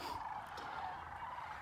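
Large flock of migrating sandhill cranes in Indiana, their rolling, bugling calls blending into a continuous distant chorus with no voices over it.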